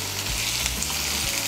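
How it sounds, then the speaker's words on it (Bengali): Chopped tomato is stirred into onions frying in a pan, giving a steady close sizzle with soft scraping stirs and a louder clatter at the end. "টমেটোটাকে মিশিয়ে নেব।"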